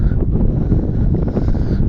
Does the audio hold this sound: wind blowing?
yes